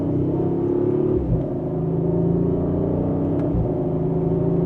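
A 2025 Audi RS5 Sportback Competition accelerates gently in second gear under manual paddle control, a steady, smooth engine drone with a slight shift in pitch, heard from inside the cabin.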